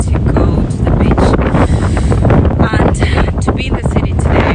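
Strong wind gusts buffet the microphone at Little Venice on Mykonos, a loud, rough roar that swells and dips continuously throughout.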